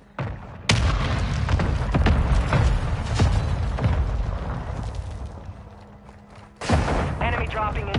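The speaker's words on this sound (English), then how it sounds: "Mortar strike inbound." Mortar strike explosions in a military video game: loud, dense rounds of booms and crackling blasts keep coming for several seconds, briefly ease off, then erupt again near the end, with a low steady hum running under the barrage.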